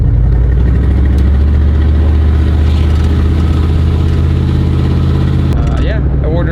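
Pickup truck engine idling with a worn-out exhaust needing replacement from the manifold back, a loud, steady, rumbling drone close by with talk over it.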